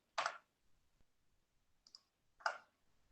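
Computer keyboard clicking during an online lesson, a few separate quiet clicking bursts with gaps of silence between them.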